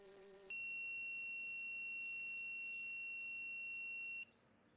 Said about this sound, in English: The buzzer just turned off because now the carbon dioxide PPM value is below 600.